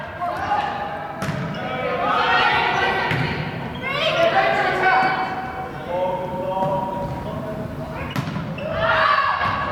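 A powerful women's volleyball serve in a varsity match strikes with a sharp, hard smack, followed by further ball thuds in a reverberant hall, under steady commentary and crowd noise.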